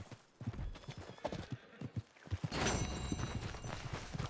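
Horse hooves clip-clop steadily on the ground in the Red Dead Redemption 2 video game, a close and rhythmic walking beat with a brief whinny partway through and ambient game sounds behind.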